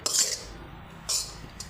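A metal spoon scrapes and clinks against a pan while mixing leftover rice tempered with spices for phodnicha bhaat. Two distinct scraping strokes are followed by a shorter third, close and crisp, with no talking.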